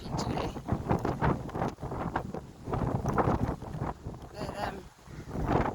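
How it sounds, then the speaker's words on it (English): Wind buffeting the microphone beside a choppy ocean on a grey coastal day on the Portuguese Camino near Combarro, a steady rushing roar with gusty swells throughout. "It's quite windy and choppy today."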